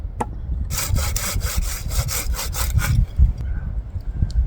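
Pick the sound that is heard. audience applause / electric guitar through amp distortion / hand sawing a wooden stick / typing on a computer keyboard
hand sawing a wooden stick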